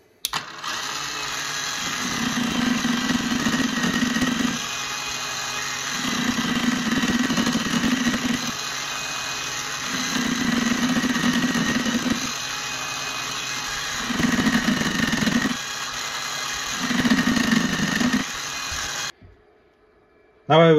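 A Proxxon MF70 mini milling machine with a gear cutting attachment cuts a gear, its motor whine rising and falling in repeated passes every few seconds over a steady high hum, ending in a brief pause.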